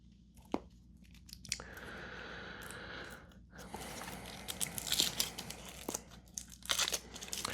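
A foil-wrapped US Cadbury caramel egg being unwrapped up close, with foil crinkling and tearing, then crunchy bites and chewing mixed with more crinkles, all fairly quiet and with no speech.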